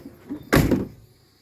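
The entrance door of a 2019 Swift Escape 604 motorhome opens with a single sharp, close thud and rattle that fades quickly, heard on its own.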